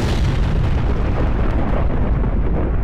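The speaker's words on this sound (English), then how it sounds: "They're gonna airstrike whatever facility that is on" Airstrike blast in the game Black Mesa, a loud sustained rumbling explosion and shockwave roar filling the whole span, close and heavy, with no voices.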